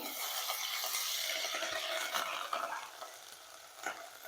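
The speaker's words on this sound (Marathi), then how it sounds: "हे छान आपण हलवून घ्यायचं" Ground medium-hot green chili paste stirred in hot oil in a pan for a cowpea curry made without onion or garlic, a soft continuous sizzle with light scraping strokes, close and quiet, no talking.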